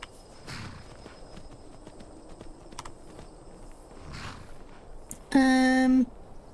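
Soft hoofbeats of a horse in Skyrim, a few light clops, then a short bright electronic tone near the end.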